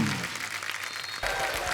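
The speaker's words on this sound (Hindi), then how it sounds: "एक बार हमारी पहलवान की पूरी स्टार कास्ट के लिए जोरदार तालियां हो जाए।" A television comedy show studio audience breaks into loud, sustained applause for the star cast of the film Pehlwaan, clapping dense and continuous, with a brief shift in the crowd noise partway through.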